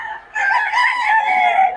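A single rooster at a chicken market in Bocaue, Philippines crows once, loud and close, a drawn-out cock-a-doodle-doo lasting over a second.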